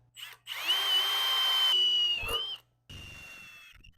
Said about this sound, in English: I'll put these rosette holes in, or whatever they're called.